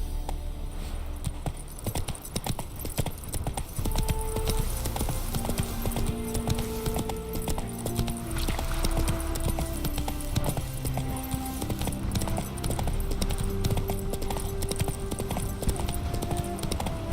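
Geralt's horse Roach gallops in The Witcher 3, a steady rapid clip-clop of hooves running continuously under a layer of game music and ambient sound.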